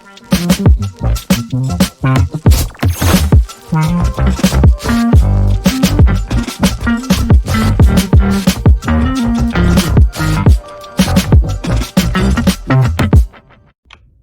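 A full hip-hop beat made for a beat battle plays loud and dense, with punchy drums, heavy bass and layered samples in a steady looping groove that runs almost to the end before cutting out.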